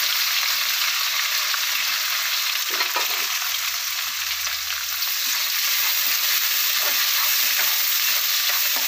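Onion and green chilli fry in a pan with a steady, bright sizzle that holds for the whole stretch, joined now and then by soft stirring scrapes.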